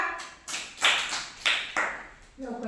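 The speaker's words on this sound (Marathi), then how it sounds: "इसा टाळ्या वाजवा" Children clap their hands in a short burst of about five sharp, separate claps, close and fairly loud, followed by a brief voice at the end.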